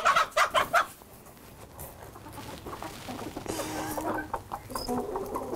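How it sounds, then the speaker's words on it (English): Several chickens cluck and squawk nearby, with a few loud bursts at the start followed by steady softer clucking and rustling. "Chickens."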